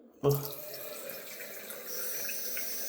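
Water gushes suddenly from a simple mixer tap mounted at a mirror into a bathroom washbasin, a close, steady running stream that swells slightly toward the end.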